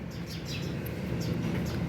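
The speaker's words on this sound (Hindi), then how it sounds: "आज बहुत शोर मचाया हुआ चिड़ियों ने" Birds chirp busily nearby, a steady wash of overlapping tweets and calls over a continuous low background rumble, fairly loud and with no talking.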